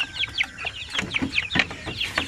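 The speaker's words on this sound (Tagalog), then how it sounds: "So kasya ang 16 na sisi, 1 month old." One-month-old chicks in a small pen chirp and cluck in quick, high, overlapping calls, close and fairly soft, with no talking.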